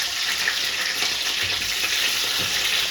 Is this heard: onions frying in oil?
yes